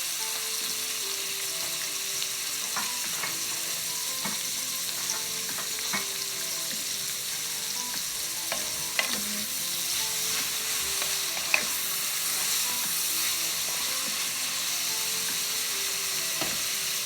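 Napa cabbage stir-fries in a hot pan for pancit guisado, a loud continuous sizzle with scattered clinks and scrapes of stirring throughout.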